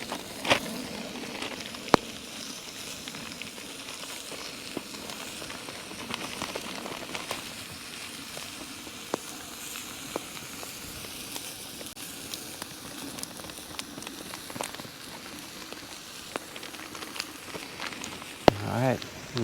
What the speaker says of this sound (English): Let's see if we get any sizzle here.